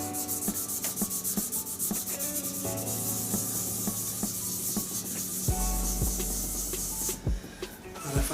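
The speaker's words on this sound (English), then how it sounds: "And just blend it into the handle now with the smoother grits." Resin shaving brush handle sanded with finer grits, a steady close-up rasping rub with repeated back-and-forth strokes and occasional knocks, no talking.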